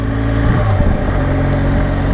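BMW R1200 GS TE motorcycle engine running steadily while riding on a cold winter day, a continuous close mid-pitched drone with a slight surge partway through, no voices.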